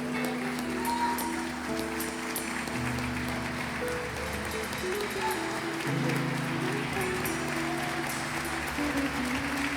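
Church congregation clapping continuously during worship, dense applause layered over sustained music and singing, with occasional louder bursts.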